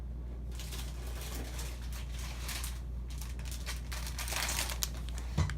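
Brown craft paper envelopes being handled, with soft bursts of crinkling and rustling paper close by, brief pauses between them and a slight tap near the end.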